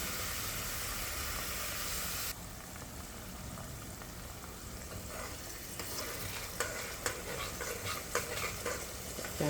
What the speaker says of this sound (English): And stir the pot